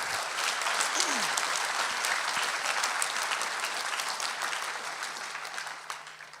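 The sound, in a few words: audience applause for auctioneer finalists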